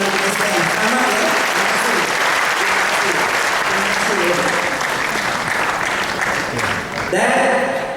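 Loud, dense audience applause filling a hall at a company agent gathering, continuous clapping for several seconds with a brief dip and renewed burst near the end.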